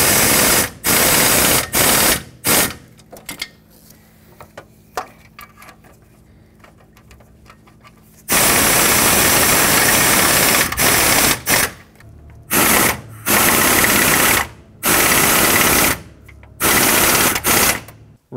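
Pneumatic air gun on its lowest setting snugging exhaust manifold bolts on a 2009-2019 Ford Flex, a run of sharp rattling bursts separated by short pauses, with a longer stretch of steady mechanical noise in the middle.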